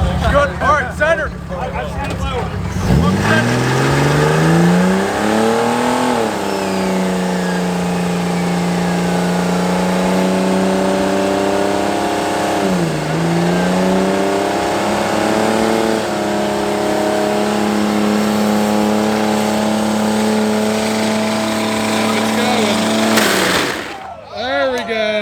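A car does burnouts after a car show, its engine revving hard and holding high, loud and close, with pitch swings as the revs rise and dip over a steady roar. Voices can be heard under the engine noise.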